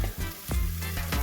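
Short burst of sizzling and crackling as conch fries in a hot pan, with a few soft clatters and a low hum underneath.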